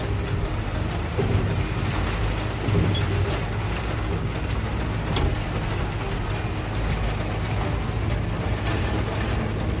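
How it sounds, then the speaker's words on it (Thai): Dense, steady heavy rain drums hard on a surface nearby, a continuous hissing roar with countless tapping impacts and a low rumble underneath. "ฝนแรงมากเลย"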